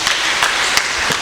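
Congregation applauding during a Kikuyu-language church service at PCEA Membley Parish, a steady wash of clapping with a few louder individual claps standing out.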